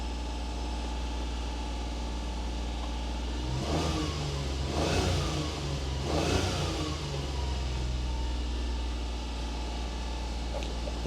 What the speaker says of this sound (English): I'll give it a little rev. It is still, again, in cold start, so I won't do too much, but give it a little gas so you can see.